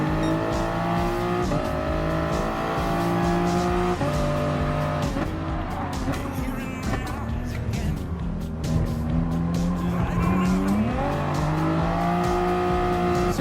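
Race cars in Gran Turismo Sport, including a Toyota FT1 Vision GT, an Aston Martin and a Subaru, scream past with constant high engine whine, rising and falling revs and tire squeal. Engine noise fills the whole stretch, with faint talk beneath it.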